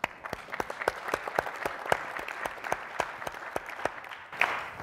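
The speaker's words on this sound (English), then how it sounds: "I think that deserves a round of applause." Applause from a modest audience at a talk on online higher education, sparse and distinct claps in a loose, uneven patter that thins toward the end.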